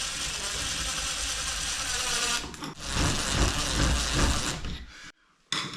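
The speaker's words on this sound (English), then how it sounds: "grab a screwdriver, put underneath your plate, and then start screwing." A screwdriver driving a towel bar anchor into a door, a close, continuous grinding and ratcheting rumble that briefly stops and restarts near the end.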